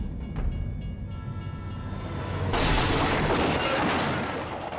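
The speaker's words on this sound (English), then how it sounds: "there's a train hurtling down the track" A train hurtling down a railway line and slamming into an SUV parked on the track, with a long rumbling approach followed by a sudden loud broadband crash and sustained roaring noise.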